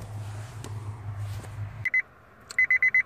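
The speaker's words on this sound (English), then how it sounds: "What I'm gonna do, turn that beeping off for now." A 2005 Honda Civic with an airbag warning light fault: a low idle hum cuts out, then sharp electronic warning beeps follow, first a pair and then a steady run of four close, loud beeps.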